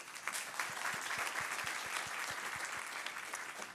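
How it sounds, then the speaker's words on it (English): An audience at a talk on strengthening British Columbia's economy through talent development claps together in steady, sustained applause. The sound is moderately distant and continuous, with no talk over it. "Let's get another round of applause for how awesome all of you are."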